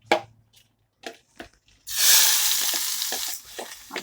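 Chopped onion hits hot oil in a pot and sizzles loudly and continuously after a few light clinks of a spoon, with occasional stirring scrapes.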